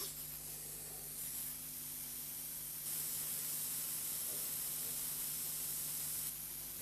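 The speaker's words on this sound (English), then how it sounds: "The air flowing into the nozzle at the front of the unit draws solution up a thin tube and converts it into a" The Model 410 flame photometer's nebulizer sprays sample solution into a mist with a steady, even hiss and a low mechanical hum beneath, stepping up slightly louder partway through.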